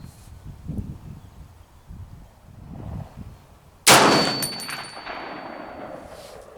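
A single loud, sharp rifle shot from an M1A at an outdoor range cracks out mid-clip with a ringing metallic tail, preceded by quiet background murmur and shuffling.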